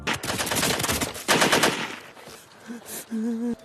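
Soldiers fire blindly in a forest, with loud rapid bursts of automatic gunfire and single shots crowding together for about two seconds. The shooting then thins into scattered, fading reports.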